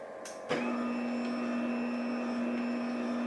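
An electric pasta maker switched on to mix a two-batch load of fettuccine dough gives a short click, then settles into a steady, even motor hum that runs on without a break.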